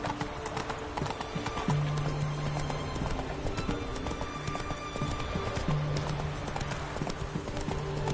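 A horse gallops in The Witcher 3 video game. Steady, rhythmic clip-clop hoofbeats run throughout over game ambience, with a brief tonal sound effect recurring twice and no speech.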